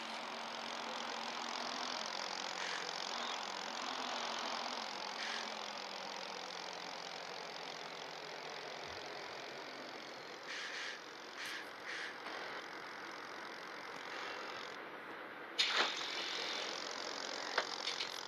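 A bus engine in Proton Bus Simulator runs at a steady mid-pitched drone while the vehicle drives, holding an even level throughout with a few brief clicks and one sharp knock near the end, and no talking.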